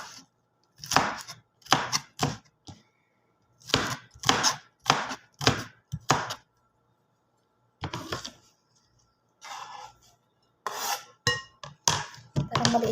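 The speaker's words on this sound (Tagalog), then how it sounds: "Manood lang kayo sa akin habang naghihiwa ako ng salad na to" Knife chopping vegetables such as large tomatoes for an Arabian-style salad, with clusters of crisp, close cuts on a board in quick rhythmic runs separated by silent gaps.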